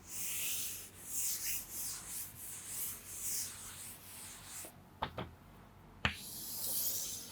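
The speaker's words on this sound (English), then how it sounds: "I am rubbing this." Rubbing on a classroom board to erase written working, a steady scrubbing swish that rises and falls for about five seconds, followed by a few short taps and knocks near the end.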